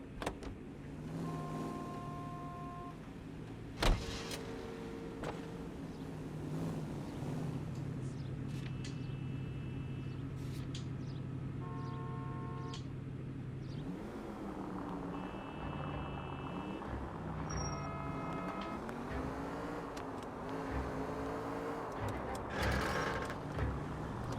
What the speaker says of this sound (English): I like this car.